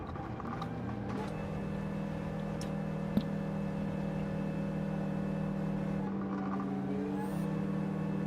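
Subaru BRZ engine with anti-lag in Gran Turismo 7, holding a steady, droning hum throughout with a brief sharp pop near the middle and a slight rise in pitch toward the end.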